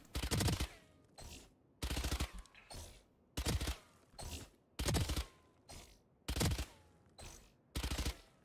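Gunfire in the tactical shooter Valorant, eight short automatic bursts spaced about a second apart, each a crisp, loud rattle of rapid shots separated by near silence.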